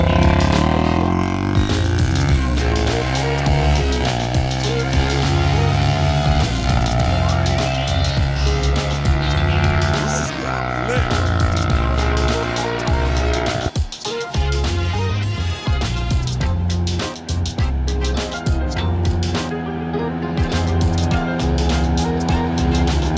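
A sport quad ATV engine screams through a high-speed run, a loud, sustained, close drone whose pitch climbs and drops with each gear change and never lets up.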